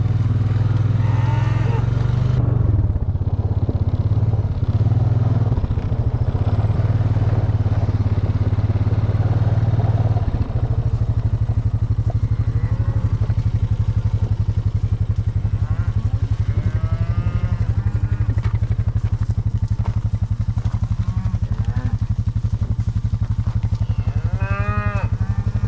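Cattle mooing loudly and repeatedly while being herded, with a steady engine drone running underneath the whole time and occasional clatter.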